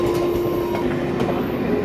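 A train rumbles steadily along the tracks with a constant low drone and faint rhythmic clatter, close and continuous with no voices.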